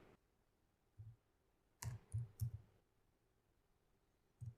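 A few soft, isolated clicks from a computer keyboard in a quiet room, spaced irregularly across a few seconds with near silence between them.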